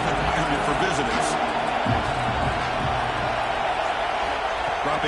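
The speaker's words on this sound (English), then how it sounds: "Listen to the crowd energy here in the early going" Steady roar of a stadium crowd cheering during a College Football 26 game, a dense, loud wash of voices sustained throughout with occasional whoops, heard under a commentator's voice.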